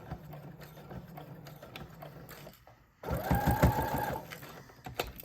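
A sewing machine stitches along a makeup pouch and back-stitches at the end, a soft mechanical whir that swells into a louder, faster run of rattling needle strokes before stopping.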